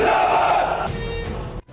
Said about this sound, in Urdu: پولیس آفس کے دورے میں کمانڈوز کے نعرے